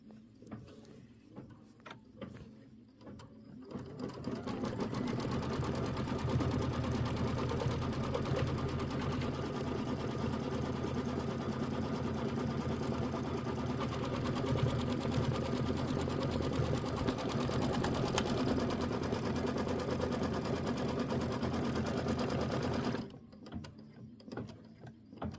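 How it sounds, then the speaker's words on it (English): A computerized quilting machine running a stitched quilting design on a Kimberbell block, a loud continuous mechanical hum and rapid needle chatter lasting about twenty seconds, with quieter handling clicks before and after. "I'm going to go ahead and hit start, and now it's going to do the quilting design"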